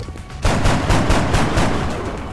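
Rapid gunfire from XCOM: Enemy Unknown, a dense burst of shots starting after a brief quiet moment and continuing steadily, loud and close throughout.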